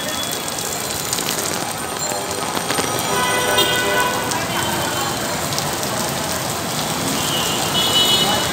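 Rain pours steadily onto a street, a dense, even hiss of drops on the road with a low rumble underneath that may be passing traffic, continuous for the whole stretch.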